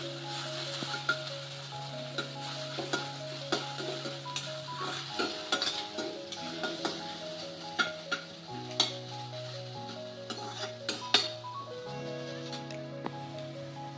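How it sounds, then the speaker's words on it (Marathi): Onions fry in oil until golden for homemade Manchurian with a soft, steady sizzle. Repeated scraping clinks of a spoon stirring the pan sound close by, and a tonal hum runs underneath. "आता आपला कांदा आपण तेलमध्ये या प्रकारे थोडासा गुलाबी रंग होईपर्यंत तळणार आहोत."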